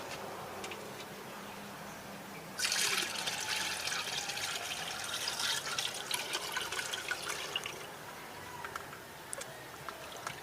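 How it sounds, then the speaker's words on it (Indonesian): Liquid fertilizer poured through a strainer into a bucket of water, a steady splashing pour that starts abruptly, runs for about five seconds and tapers into trickles and drips, close and without talk. "sekarang kita akan saring, kita akan masukkan ke dalam air yang di ember tadi"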